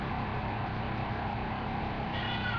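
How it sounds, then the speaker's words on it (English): A pet cat meows indoors, a short mewing cry rising near the end over a muffled room background, fairly close and moderately loud. "sorry, it's my cat"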